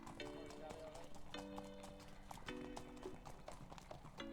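Racehorses walking out for first lot at 6 a.m. at a training yard, hooves clip-clopping in a steady rhythm, with people talking over them.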